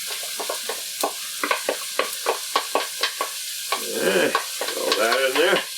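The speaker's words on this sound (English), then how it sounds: "Going to put in the meat now." Ground beef frying in a pan with softened onions, a steady sizzle under a rhythmic series of scraping stirs from a utensil, close up with no talking.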